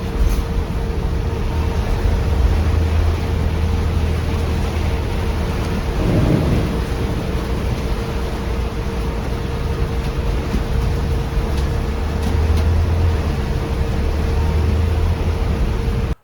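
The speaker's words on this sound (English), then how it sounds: "that was a huge storm" A heavy thunderstorm with rain gives a steady, loud wash of rainfall and wind noise, with a low rumble of thunder swelling briefly partway through.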